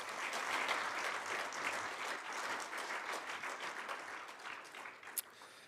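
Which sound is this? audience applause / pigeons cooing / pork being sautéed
audience applause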